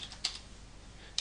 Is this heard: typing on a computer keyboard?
yes